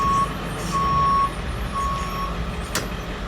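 An ailing vehicle backs up with a steady reversing beeper sounding in repeated long tones over a low, rough engine rumble, with a brief sharp hiss near the end.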